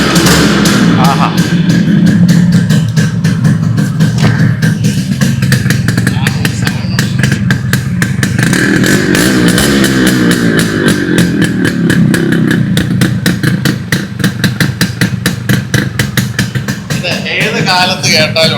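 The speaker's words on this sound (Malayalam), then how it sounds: "ഒന്ന് സ്റ്റാർട്ട് ചെയ്ത് കേൾപ്പിച്ച് ഐസക്കെ, സൗണ്ട് കേൾക്കട്ടെ." An old Yamaha RX100 two-stroke motorcycle, about 35 years old and freshly restored, runs loudly and close by with a fast, rattling engine pulse and rising revs, while people talk over it.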